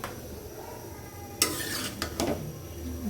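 Chopped bottle gourd seasoned with salt and turmeric is stirred in a hot pan, quiet at first, then bursts of scraping and a brief sizzle with a couple of utensil knocks, close by.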